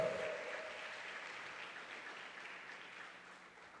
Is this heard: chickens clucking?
no